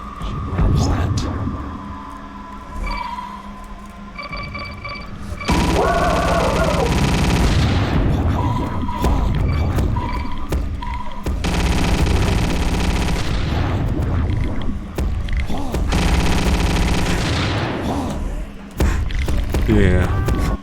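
Gunfire in a horror video game comes in heavy repeated bursts aimed at the player through a dark void. Loud thumping volleys alternate with rumbling stretches while a person talks over parts of it.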